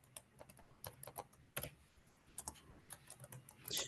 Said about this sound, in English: I'm gonna type it here